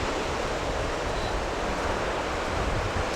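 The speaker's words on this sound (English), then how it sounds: "I've got the wind cover on the microphone, but it's very windy." Strong wind buffets a covered microphone at the South Australian coast, a dense, loud, unbroken roar that mixes with surf-like rushing and holds steady throughout without voices.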